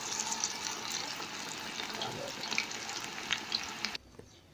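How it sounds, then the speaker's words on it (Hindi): Potato and onion pakoras fry in hot oil, a close, dense crackling sizzle that runs steadily before cutting off abruptly near the end. "आयल हमारा गर्म हो गया। अब इसमें बिस्मिल्लाहिर्रहमानिर्रहीम पकौड़ों को शामिल करेंगे जी"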